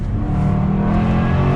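Engine of a 2017 Jaguar F-Type SVR with an 8-speed gearbox revving on a downshift under braking, a loud, steady, close growl with a dense low rumble that holds through the whole moment without a break.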